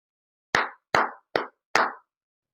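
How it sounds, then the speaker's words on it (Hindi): Four sharp, separate hand claps ring out one by one, evenly spaced in a quiet room during a Bhairav protection mantra ritual, with silence between them. "ऐसे 3 ताली बजाओ"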